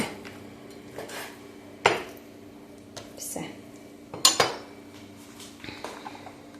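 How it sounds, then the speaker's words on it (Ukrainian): Knife strokes cutting pieces of meat for a meat grinder on a board in a home kitchen, heard as a few sharp, irregular knocks and clinks over a quiet background, with no talking. "Ріжу такими шматочками, щоб зручно було в м'ясорубку закинути."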